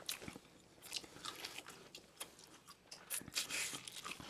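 Mouth sounds of someone chewing a last bite of food during a mukbang, soft irregular crunchy bites and wet chewing clicks close to the mic, with no talking.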